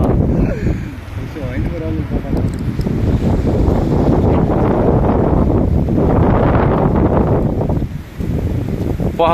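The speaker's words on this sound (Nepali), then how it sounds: "आमामा यस्तो हावा त मैले अहिलेसम्म थाहा भएको थिएन" Fierce windstorm battering a hillside village, loud continuous roaring gusts that buffet the microphone for the whole stretch, with a voice talking over it early on and a brief lull near the end.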